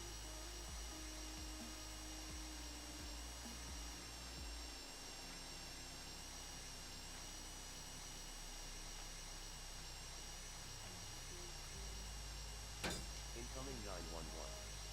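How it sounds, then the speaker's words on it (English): A drill grinding into a lock in a video game gives a continuous, steady high whine that holds through the whole stretch, then a sharp click near the end followed by brief rattling. "obviously, you are drilling into a lock."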